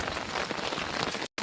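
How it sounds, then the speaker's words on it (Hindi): Heavy rain falls steadily in a dense, close hiss on a wet street, continuous until a brief cut near the end. "अब बहुत तेज़ बारिश हो गई है"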